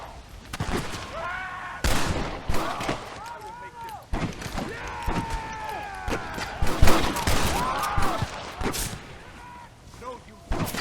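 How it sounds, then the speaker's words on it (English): A Gatling gun fires in the Western video game Red Dead Redemption: loud, rapid bursts of repeated shots and booms come in waves, with shouting voices mixed into the gunfire. "Get out the Gatling gun!"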